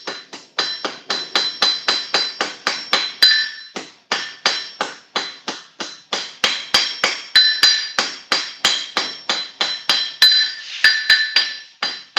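A blacksmith's hammer strikes metal in steady, evenly spaced planishing blows, about three per second, each a bright ringing clink that decays quickly; a brief pause breaks the run before it resumes, close and clear with no speech.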